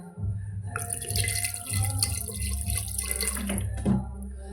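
Water pours from a mug into a cooking pot for mutton curry, a continuous splashing gush close by lasting several seconds with no talk.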